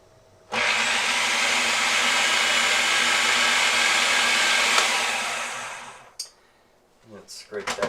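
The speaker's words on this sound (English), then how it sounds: "And we're going to blend that for about a minute." A blender whirs loudly and steadily for about six seconds, blending hummus with cumin, then stops, followed by a few clunks and a voice.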